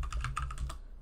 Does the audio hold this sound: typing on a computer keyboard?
yes